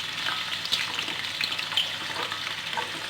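Anchovies (ikan bilis) fry in hot oil in a pan, a steady close sizzle with small crackles and pops and occasional stirring.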